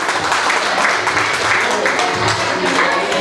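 An audience applauding at a 50th birthday jubilee party in Krasnoyarsk: loud, even clapping that fills the room without a break from start to finish.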